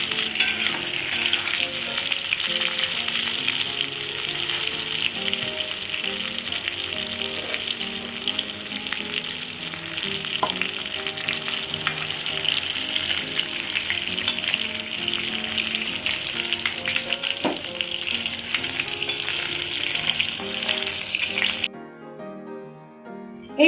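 Pointed gourds (potol) sizzle and fry steadily in hot oil in a pan, a dense continuous crackle with occasional stirring, lasting until it cuts off abruptly near the end.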